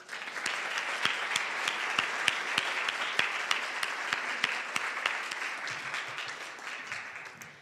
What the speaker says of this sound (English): let's give a round of applause to sophomore Hannah Greenstein for her beautiful cello music